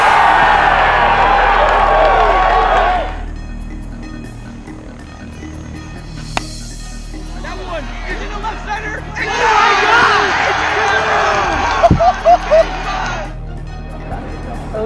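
Stadium crowd at a wiffle ball World Series game cheers and chants in a loud, sustained roar, swelling in two broad bursts with a quieter stretch of babble between them.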